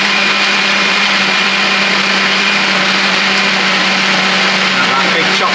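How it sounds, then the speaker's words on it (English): A blender making a white chocolate mocha frappe whirs steadily at close range with a bright, even motor tone, the ice-crushing clatter having given way to a smoother spin. "Now that big chopping noise has stopped, and the tone of the blender has changed."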